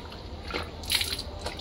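Water poured from a tap or jug while a child brushes teeth at a sink, a short splashing gush with dripping, fairly close, with no talk.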